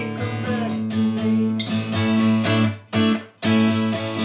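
Guitar slowly playing a song, near and clear, with ringing strummed chords held in steady measures and brief pauses between changes.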